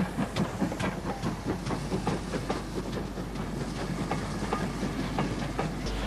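A BR Standard Class 5 steam locomotive, introduced in 1951, pulls out of a station in Scotland, its steady rumble joined by continuous hissing steam and a rhythmic clatter of wheels and carriages, loud and close throughout.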